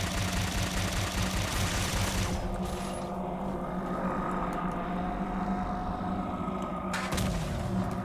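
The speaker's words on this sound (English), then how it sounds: "So there's a guy with a concussion rifle." Concussion rifle fire in the Halo 4 video game gives a dense, loud, rumbling barrage of blasts and explosions that fills the scene throughout, with no speech over it.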